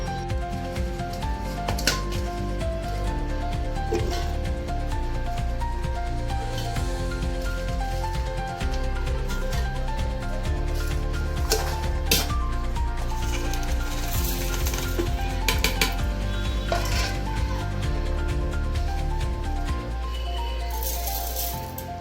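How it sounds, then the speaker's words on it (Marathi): An electric mixer grinder blends ginger, garlic, green chili, coriander and cumin without water, giving a loud, steady motor whir with rattling and grinding that runs almost the whole time, pausing briefly near the end. "थोडं आलं लसूण मिरची आणि कोथिंबीर आणि जिरे हे आपण सर्व मिक्सरच्या भांड्यामध्ये बारीक करून घेऊया"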